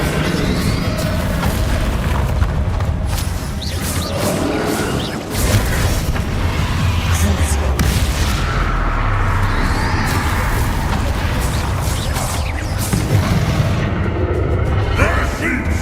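Explosive blasting spells go off in Hogwarts Legacy, heavy booms and bursts over a dense, loud combat soundscape, with a voice speaking over the action.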